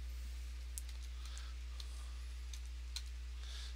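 Faint, sparse keystrokes come from a computer keyboard while a formula is typed into a Google Sheets spreadsheet, isolated clicks over a low steady hum.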